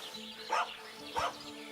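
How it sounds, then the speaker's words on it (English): Dog in Kingdom Come Deliverance 2 giving two distant barks about half a second apart, faint over a quiet ambient game background. "I hear a dog."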